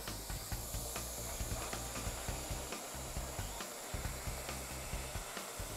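A hot air welder thermally welding vinyl plastic gives a continuous close hiss, broken by quick rhythmic ticking and clicking, with no voices.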